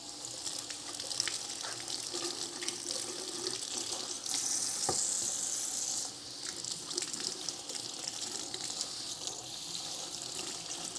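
Summer squash rinsed under a running cold kitchen tap, steady splashing water into a sink with a brief louder gush as the vegetables pass under the stream.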